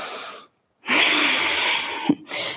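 Heavy, loud breathing follows a kettlebell workout, with close-up breaths rushing in and out, one short breath, a long exhale, and another breath beginning after a brief pause.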